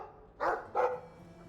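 A dog in the video game Dragon Age II gives two quick, close barks about a third of a second apart, clear against a quiet background.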